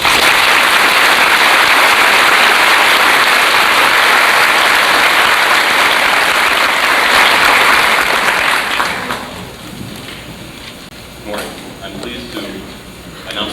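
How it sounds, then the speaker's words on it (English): A senior assembly audience at a 1996 PHHS awards ceremony breaks into loud, dense applause that holds steady for about nine seconds, then fades to scattered claps beneath a speaker's voice. "Join me in a round of applause."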